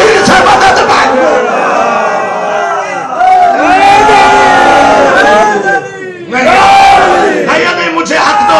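A majlis crowd in an imambargah in Burnley, UK, chants religious slogans in unison during a Muharram gathering, loud, close and continuous with rising and falling group shouts and a brief dip near the end.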